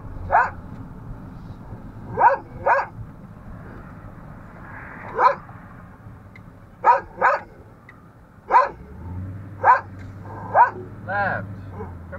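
A dog barks in short, loud bursts scattered through a roadside stop, about ten barks over steady background rumble, with people talking nearby.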